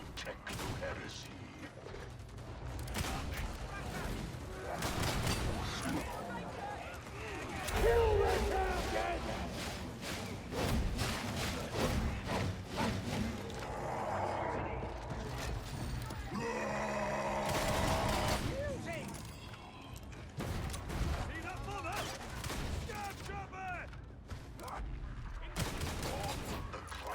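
Rapid bursts of heavy automatic weapon fire in a Warhammer video game, dense repeated volleys and mechanical clatter filling most of the stretch, loud and close, with a person talking between shots.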